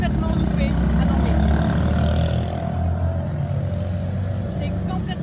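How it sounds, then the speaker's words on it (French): Busy road traffic in the Philippines, a steady drone of car and heavier engines idling and revving close by, continuous and loud throughout, with a voice talking over it. "je sais pas si vous allez m'entendre parce qu'il y a beaucoup de trafic"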